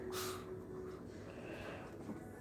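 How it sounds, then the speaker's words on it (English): A wet dog back from a walk in the rain sniffs and snorts up close, a sharp snort at the start followed by quieter breathy sniffing. "What are you sniffing for?"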